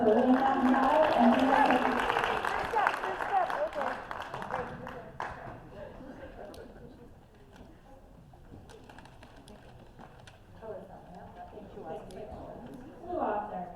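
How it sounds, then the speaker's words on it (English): An audience at a library event claps for a medal winner, starting as a loud burst of applause that fades over several seconds into quiet murmuring and scattered sounds. "Give Carol a round of applause for winning that medal"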